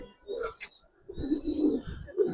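Bagha pigeons of an old breed in a loft give low, throaty cooing in two bursts, the second longer and fuller, with faint higher chirps above.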